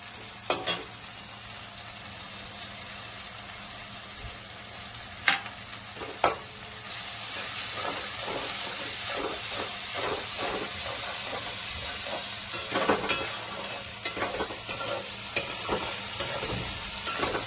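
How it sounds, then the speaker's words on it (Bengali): Spices and fried onions sizzle steadily in a kadai while being stirred for achari karela. A constant hiss of frying runs throughout, with repeated scraping and clinking of the spoon against the pan. "এখন একটু জল দিয়ে মশলাটাকে কষাবো ভালো করে"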